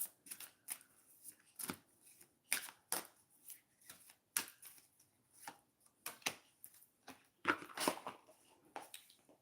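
Tarot-style oracle cards from a shamanic star wisdom deck being shuffled close by, a quiet run of soft papery riffles and flicks in irregular bursts with no talking.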